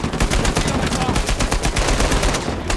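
Rapid automatic turret gunfire from an enemy turret in the video game Uncharted 4: A Thief's End, loud and relentless bursts of shots filling the whole moment.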